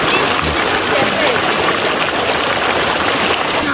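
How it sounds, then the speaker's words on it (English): Small waterfall at Napuru falls near Arusha, Tanzania: a steady, loud broadband rush of falling and splashing water fills the whole stretch with no pauses, with a low thump near the start. "Waterfall ndogo."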